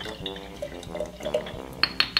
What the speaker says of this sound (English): So I'm going to pour it.